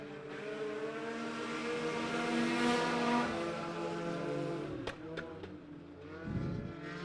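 Race cars roar together under green flag racing at Crawford County Speedway, a loud sustained engine drone with rising and falling pitch as the pack passes, ending in a few sharp bursts.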